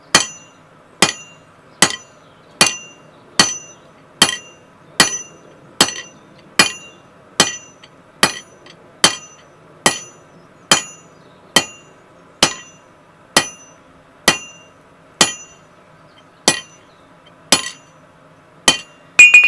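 Steady hammer blows ring out one after another, about one per second, as a steel drift is forged and tapered. Each strike is sharp and metallic and fades quickly, with no talking.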